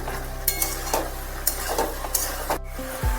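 Green chillies are stirred in a frying pan with a low, steady sizzle of hot oil underneath, and a utensil scrapes the pan in several distinct strokes.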